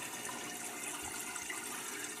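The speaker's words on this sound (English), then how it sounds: "Let me turn the pump on here and let's start circulating this water." An intercooler water pump circulates coolant through the system, giving a brief steady gushing, trickling flow of water with no talk.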